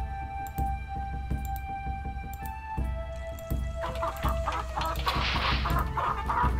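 Chickens cluck steadily in the ranch scene of the Nancy Drew game The Secret of Shadow Ranch. The clucking sits over a humming background with bursts of brighter noise toward the end.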